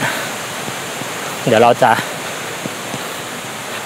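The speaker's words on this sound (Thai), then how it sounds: "เราจะพาทุกคนไปที่น้ำตกชั้นที่5นะฮะ" Rushing water of Chet Sao Noi waterfall in Muak Lek, Saraburi, Thailand, a steady broadband roar throughout, with someone briefly speaking over it partway through.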